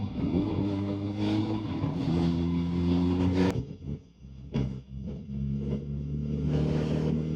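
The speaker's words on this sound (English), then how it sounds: "This bike is really good for taking corners" A VOGE RR 500 S motorcycle engine hums close and steady through a corner, dipping briefly as the throttle rolls off, then picking back up at moderate revs.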